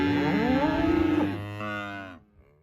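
Calves bawl in a loud, drawn-out moo with a wavering pitch while a working dog moves them during weaning; the call fades out near the end.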